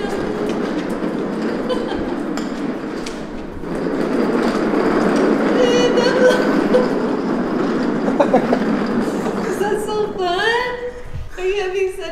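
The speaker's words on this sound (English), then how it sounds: "I definitely think it's an indoor train." A small toy train rattles and clicks along its track nearby, with a whirring motor, while people talk softly in the background.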